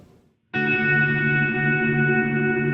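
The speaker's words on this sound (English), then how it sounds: "It's a very long reverb, so let's get rid of the delay. You'll hear what the reverb is." An electric guitar played through a very long ambient reverb on a Line 6 Helix, no delay. A single chord strikes after a brief pause and then hangs as a dense, shimmering wash that barely decays.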